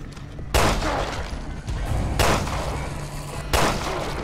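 Three heavy gunshots boom from a weapon in the horror game Resident Evil Revelations 2, each a sharp blast spaced about 1.5 seconds apart with a lingering tail.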